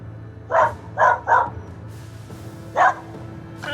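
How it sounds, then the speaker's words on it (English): Four sharp, close dog barks come outdoors toward a FedEx delivery driver, three in a quick burst and one more after a pause, over faint background hum. "A dog escaped and sent a FedEx driver running for safety."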